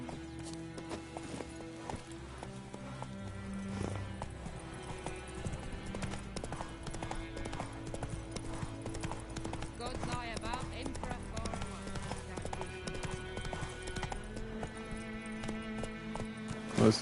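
Roach the horse's hooves clip-clop steadily in The Witcher 3, a continuous rhythmic trot running under game music and effects, with a voice talking over it now and then.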